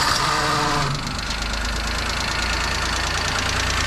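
Small engine of a Japanese Hijet mini truck fitted with a new carburetor catches and settles into a steady, close idle with a faint rhythmic knock.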